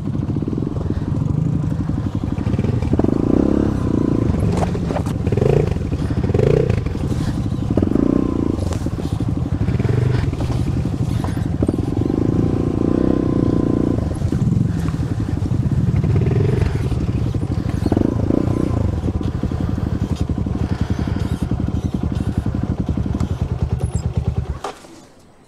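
Motorcycle labouring along a rough mountain road under construction between Tarlac and Zambales, a steady loud engine drone with clattering and scraping throughout, cutting off abruptly near the end.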